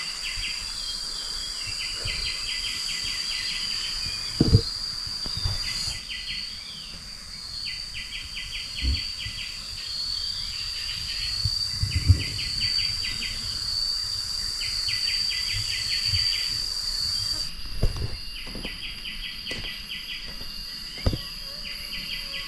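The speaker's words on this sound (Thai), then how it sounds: "เสียงนกเสียงยังแซวๆตลอด" Outdoor ambience with steady insect buzzing and repeated chirping calls, occasional faint bird notes and scattered rustles and knocks close by.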